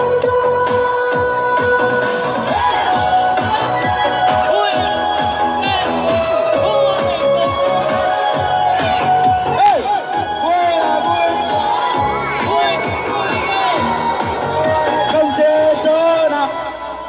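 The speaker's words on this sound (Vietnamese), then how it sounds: "mời một tràng pháo tay để chúc mừng thầy sứ" At a parish Mid-Autumn festival gathering in Mường Cắt, a crowd gives sustained applause to congratulate a teacher, with clapping, cheering and voices mixed over background music throughout.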